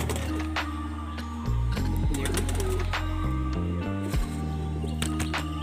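White Mundi pigeons of the Jiria line coo in a loft at Bauria, their low repeated tonal calls close and steady, with wing and cage clatter and other birds chirping faintly around them.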